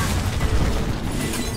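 A fire punch explosion effect from the Hearthstone video game: a short, dense, rumbling boom with crackling burst texture lasting under two seconds.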